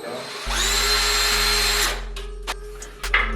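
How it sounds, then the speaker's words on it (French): Power drill boring 8 mm and 6 mm mounting holes while installing a recessed Grohe shower: a loud, steady motor whine lasting about a second and a half, then winding down, followed by a few short clicks and knocks. "On va percer"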